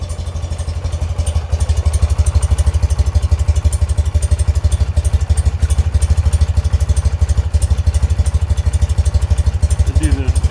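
A 1978 BMW R 80/7 motorcycle engine runs just after a carburettor rebuild, a loud close idle of rapid, even thumping pulses. It picks up at about one and a half seconds and holds steady to the end.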